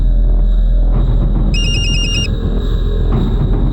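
A telephone call rings in a Crime Patrol police drama: one brief burst of rapid electronic trilling sits over a loud, constant background music bed.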